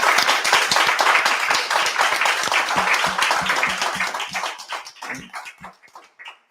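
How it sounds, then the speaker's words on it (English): An audience gives a round of applause to four guests at the end of a tech industry panel event. Dense clapping starts loud, then thins into scattered individual claps and fades out. "Can I have a round of applause"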